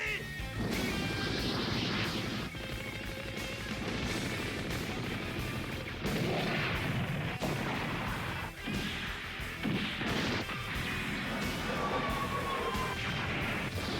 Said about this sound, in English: The high rate guns miss everything, but the one-shot bazookas hit.